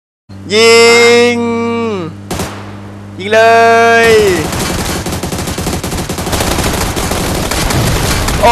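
Rapid bursts of PUBG Lite gunfire, loud and dense, with harmonic game tones and sound effects early, then a sustained clatter of shots to the end.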